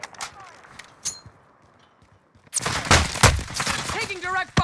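Gunfire in the video game Warzone with an AS VAL class setup: faint scattered shots early on, then a loud burst of rapid fire with mixed game effects from about halfway through.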